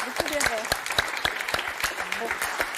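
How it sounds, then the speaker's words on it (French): A studio audience on the game show Motus claps in brisk, sharp bursts, close and fairly loud, while voices talk over the applause. "On va vous applaudir très fort déjà"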